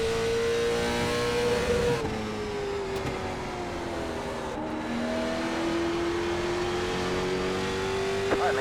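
A late model stock car engine drones in the iRacing simulator at Martinsville, a close, continuous tone that sags as the car lifts and then climbs steadily back up. Other cars rumble and tires scrub faintly around it.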